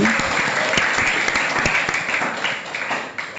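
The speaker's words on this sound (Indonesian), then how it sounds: "berikan tepuk tangan" Steady applause from a group fills the space with dense clapping at a constant level, fading slightly at the end.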